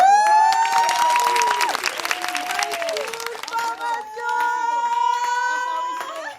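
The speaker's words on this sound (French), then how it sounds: "On pourra s'applaudir, applaudissez-vous." An audience applauds itself at the close of a session, a lively wash of clapping with whoops and sustained tonal voices or music riding over it, loud and continuous.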